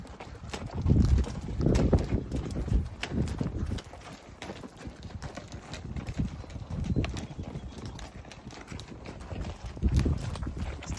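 Horse hooves clip-clop on a trail ride in Idaho in an uneven walking rhythm of soft thuds, close by and moderately loud against faint outdoor background noise.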